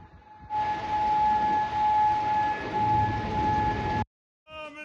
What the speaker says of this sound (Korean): 쿠웨이트 시티에서 사이렌이 울려 퍼집니다